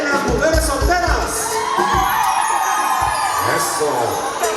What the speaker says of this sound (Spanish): Queremos escuchar el grito fuerte, fuerte, el grito de las mujeres solteras.